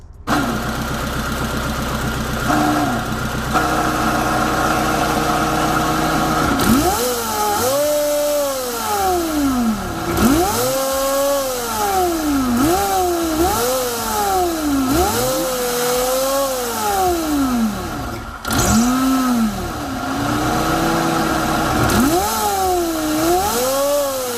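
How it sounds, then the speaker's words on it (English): A supercharged station wagon engine revs repeatedly in rising and falling sweeps, with a steady idle between bursts, loud and close with no talking. "I hope you enjoyed the little supercharger action"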